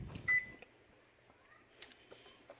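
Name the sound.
microwave oven finishing and beeping while cooking rice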